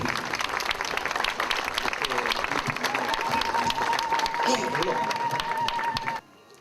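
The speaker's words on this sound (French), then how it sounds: "On peut applaudir." An audience applauds at a memorial gathering before a monument to the Assyrian, Chaldean and Syriac people, with steady, dense clapping over murmured voices and a thin sustained tone, cutting off abruptly near the end.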